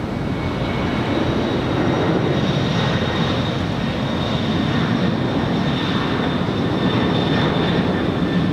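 An airliner passes near Los Angeles LAX airport, its jet engine a loud, broad steady roar that holds through the whole stretch with no speech over it.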